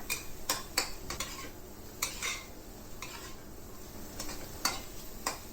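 Eggs stir-fried with celery and tomato in a pan, a steady sizzle beneath repeated scraping and clinking strokes of a utensil against the pan, close and moderately quiet.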